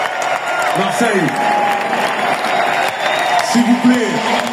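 A large stadium crowd at a rap concert at the Marseille Vélodrome applauds, with sustained clapping, scattered cheers and whoops, and shouting voices rising over the roar.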